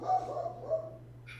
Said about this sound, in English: Do you hear this dog?